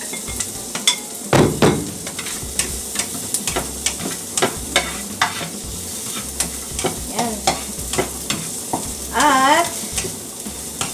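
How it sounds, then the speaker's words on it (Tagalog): Onion and garlic sizzle and fry in a pan while a utensil stirs and scrapes them repeatedly, close and fairly loud, with frying and scraping throughout. "Palutuin lang natin ng konti ang ating onions at saka garlic, okay?"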